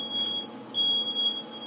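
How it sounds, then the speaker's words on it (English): A household smoke alarm beeps in two sustained high-pitched tones separated by a short gap, set against faint room noise, moderately loud and close. "the smoke alarm is going off again because someone is cooking again"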